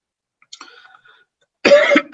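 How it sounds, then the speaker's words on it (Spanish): Faint throat noises lead into a single sharp, close cough near the end, followed by a short catch of breath. "Yo fumo y tú toses."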